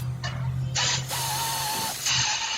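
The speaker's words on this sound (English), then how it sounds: "I'll use my ratchet to turn it" A hand ratchet turns a 14 mm bolt on a car's brake or suspension during a pad and rotor job, giving close mechanical whirring bursts with a steady tonal hum underneath and no talk.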